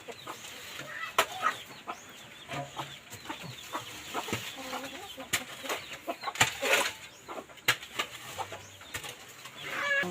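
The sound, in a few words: chickens clucking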